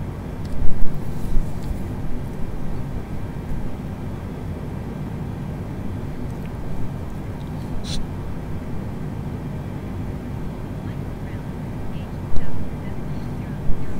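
An Airbus A320neo engine starting in Microsoft Flight Simulator 2020 before a Leipzig to Prague flight, heard as a steady, loud, broad rumble and whine from the cockpit, with people talking over it.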